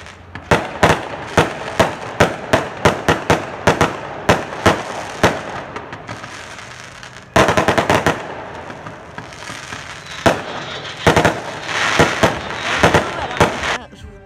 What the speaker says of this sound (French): Petit feu d'artifice.